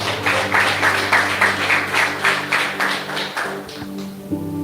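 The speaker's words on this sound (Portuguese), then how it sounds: "Você pode aplaudir ao Senhor por isso?" A church congregation applauds together in rhythmic, steady clapping, a full room of hands beating in regular pulses that fade toward the end.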